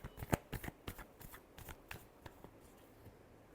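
Tarot cards shuffled by hand, a quick run of crisp riffling flicks at close range that fades to a few lighter taps.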